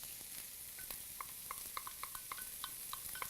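Chopped onions frying in a pan, stirred with soft utensil taps and scrapes over a steady hiss of sizzling oil, moderately close, with no talking.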